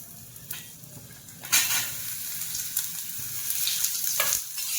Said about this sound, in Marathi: याच्यात घालते आलं